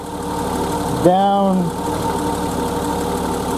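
1988 BMW E30 engine idling with a steady, close mechanical hum throughout, briefly interrupted by a single spoken word partway through.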